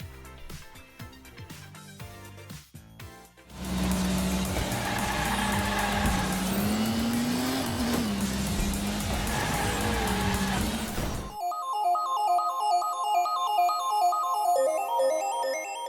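Cars drift and boost in an arcade racing video game, with roaring engines and squealing tires for several seconds. Music plays before and after the driving.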